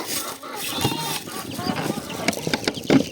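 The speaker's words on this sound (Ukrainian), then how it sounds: "А ну вон звідси кури вредні." Chickens cluck and squawk nearby amid shuffling and clatter, with a few brief noisy bursts.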